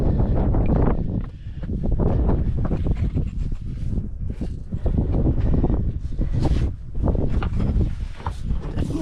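Wind on a Scottish mountain, buffeting a microphone as a steady loud roar with gusty surges, alone without voices.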